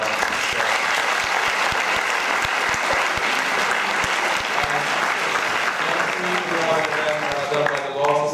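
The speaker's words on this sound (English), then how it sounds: "very big round of applause for us" Sustained audience applause after a panel talk on Brexit and the future of Europe, steady and full throughout with a few sharp claps standing out, and a voice rising near the end.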